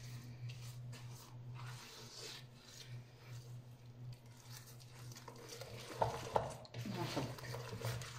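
Biscuit dough mixture being stirred in a bowl, a soft continuous rasping scrape with rhythmic rubbing strokes, close and fairly quiet, with a low steady hum behind it and a few sharper knocks near the end.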